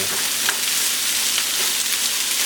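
Onions and bell peppers frying in a pan make a steady, close, even sizzle with faint crackles and occasional stirring, heard alone and without any talk.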